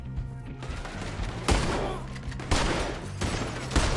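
Rapid gunfire bursts in the Red Dead Redemption 2 video game, loud close shots cracking in clusters with a dense crackling rattle between them, no talking.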